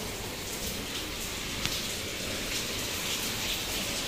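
Heavy rain pours steadily, a dense continuous hiss of drops drumming on surfaces, with no voices.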